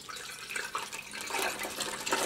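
Marinade pours into a measuring cup in a thin, steady stream, a close, continuous splashing trickle that grows a little fuller toward the end, with no talk over it.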